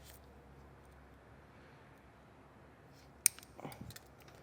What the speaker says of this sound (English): Then I'm going to take our ring terminal, and I'm just going to cut